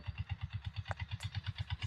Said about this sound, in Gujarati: આપણી વાડીમાં ટ્રેક્ટર આવે છે